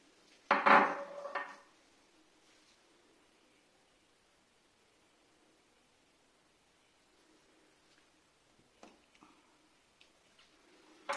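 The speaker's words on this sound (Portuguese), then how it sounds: "Um pouquinho que você coloca, olha, você espalha com a colher." A spoon clatters and scrapes against a dish while chocolate coating is spread over honey cake, with a sharp burst of clinks at the start, then faint, sparse scraping and taps in a quiet room.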